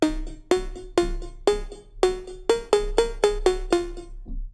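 An Atari synth pluck, modeled on a track, plays about ten bright, percussive, cowbell-like notes in a bouncy melodic pattern, each decaying quickly. It is heard alone with no voices.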